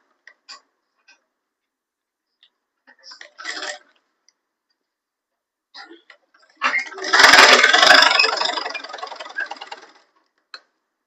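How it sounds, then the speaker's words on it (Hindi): Sewing machine stitching a straight seam on a salwar suit, a brief run of fast, even mechanical rattling and ticking after scattered clicks and handling noises, fairly close. "अब हम इसको एक पहले सीधी सिलाई लगा लेंगे"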